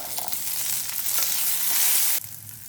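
Small shallots sizzle loudly in hot oil in a pan while being stirred, as the cooking for a radish chutney begins. The frying hiss is steady and close, then drops off abruptly near the end.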